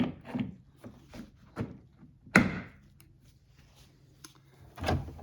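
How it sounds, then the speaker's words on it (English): A series of plastic and metal clicks, taps and one sharp clunk as the front outer door handle of a 2021-2026 Toyota Sienna is fitted back in place, close and intermittent. "Now reinstall the outside door handle."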